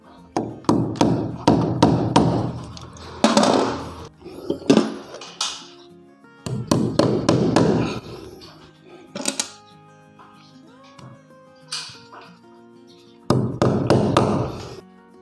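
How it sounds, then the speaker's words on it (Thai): Hammer driving concrete nails to fix RG6 coaxial cable clips along a ceiling while relocating a satellite dish: loud, close bursts of rapid strikes separated by brief pauses and a few lone taps. "เป็นตะปูตอกปูนอยู่แล้วนะครับ"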